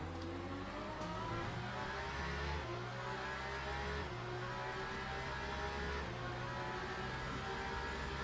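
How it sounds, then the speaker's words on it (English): Mercedes race car in Le Mans Ultimate, a sustained engine growl with transmission whine, rising and shifting through gears in steady stepped pitch changes at an even, fairly quiet level, with no voices. "the Merc sounds really good. The transmission, the engine,"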